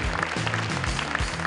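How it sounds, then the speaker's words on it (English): Applause rises as a ceremonial torch passes across the front at a school games spring championship, steady clapping heard under low-pitched booming sounds from a hall or microphone. "Give it a bit of a round of applause as it passes across the front."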